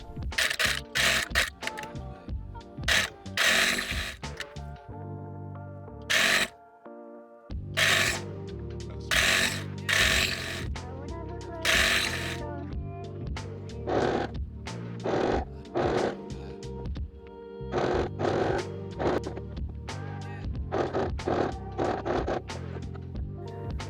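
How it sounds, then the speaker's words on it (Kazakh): A sewing machine stitches a 1 cm seam along a cradle mattress in short, rapid bursts of mechanical clatter separated by brief pauses, loud and close, with no talk. "Мен мына жерде төменгі жағынан бастап тігіп жатырмын."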